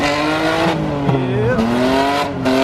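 A budget drift car squeals its tires through a slide, with wavering, sustained screeches layered over a revving engine, loud and close; a voice briefly speaks.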